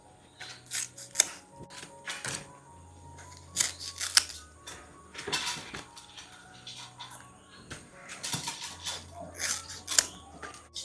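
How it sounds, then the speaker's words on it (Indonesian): Kitchen scissors snip away excess leaf wrapping from boiled rice cakes (kicang rebus), giving repeated sharp, close cuts in uneven bursts alongside rustling leaves and a low background hum. "Nih lanjut saya mau gunting-gunting, dia punya daun yang lebih ini."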